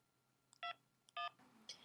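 A telephone keypad sounds three short dialing tones, each a crisp beep separated by brief pauses, clear and close with no voices.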